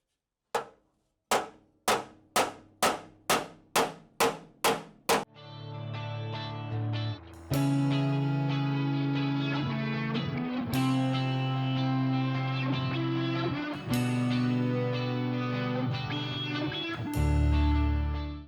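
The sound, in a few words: hammering Porsche 911 steel suspension pan flat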